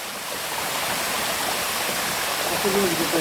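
Rushing water flows in a steady, loud broadband wash, like a fast river or stream close by, with a faint voice briefly underneath.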